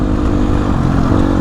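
A motorcycle being ridden off-road after two months of sitting idle. The engine drones loud and steady throughout, a continuous low rumble heard close by with no voices over it.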